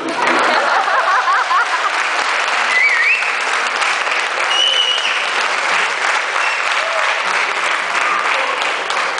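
An audience in a hall claps loudly and continuously, a dense sustained roar of many hands filling the whole stretch, with faint voices mixed in.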